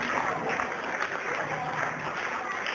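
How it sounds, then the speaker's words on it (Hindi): Enthusiastic applause welcoming a guest at a memorial gathering held by a Hanuman service committee at Salasar Dham, broad continuous clapping from a crowd with some voices mixed in. "जोरदार तालियों से स्वागत।"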